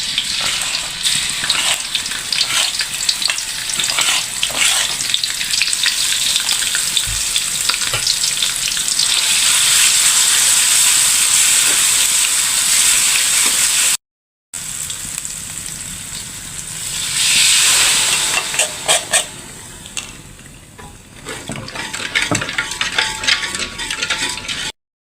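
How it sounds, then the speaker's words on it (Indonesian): Ingredients sautéing in a hot pan for corn fritters and liwet rice, a steady loud sizzle and hiss with occasional stirring scrapes, swelling and easing in bursts, with no talking. "Kita tumis dulu."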